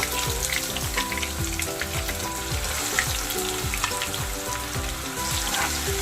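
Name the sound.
ginger onion paste frying in hot oil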